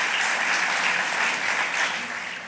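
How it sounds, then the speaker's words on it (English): Audience applause at a live interview event, a steady dense wash of many hands clapping at once, sustained and even throughout before tapering slightly at the end. "You can clap."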